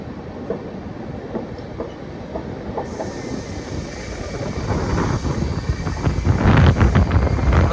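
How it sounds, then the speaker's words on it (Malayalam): LHB passenger train with brand-new coaches curving into Balaramapuram station in Kerala, wheels clattering and rumbling continuously, growing louder and closer toward the end with some wind buffeting. "ട്രെയിൻ ഇങ്ങനെ വളഞ്ഞു വരുന്നത് കാണാൻ നല്ല രസമാട്ടോ, സ്റ്റേഷനിൽ കയറണ കാണാൻ"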